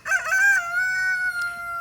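A rooster among egg-laying chickens crows once, close and clear, a single drawn-out cock-a-doodle-doo.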